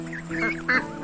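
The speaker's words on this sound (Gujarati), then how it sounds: "તળાવમાં કેટલાક બતકોનું જૂથ રહેતું હતું" Cartoon ducks quack at a forest lake in a few loud, nasal honking calls that rise and fall over about a second, close and clear with no talk.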